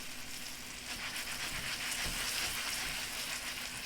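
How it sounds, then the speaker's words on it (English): Salmon frying skin-side down in a sauté pan, a steady dense sizzle and crackle with no voices. "the majority of the cooking is going to be done right here in the saute pan"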